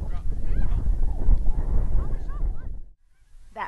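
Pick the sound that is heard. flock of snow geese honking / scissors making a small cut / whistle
flock of snow geese honking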